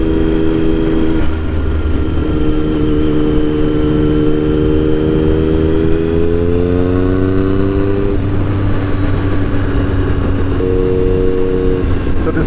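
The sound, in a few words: 2009 Triumph Speed Triple 1050 motorcycle riding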